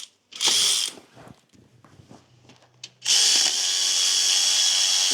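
A power ratchet loosens the timing belt tensioner on a car engine in two loud, whirring bursts, one short and one sustained, with quieter clanks and tool handling in between.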